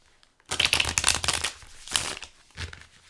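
Tarot cards riffled and shuffled up close in a few quick bursts of crisp flapping paper, with short pauses between them.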